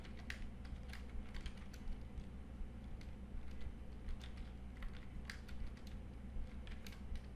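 Quick, uneven keystrokes clatter on a computer keyboard as code is typed, close and fairly quiet, with a light continuous background hum and no talking.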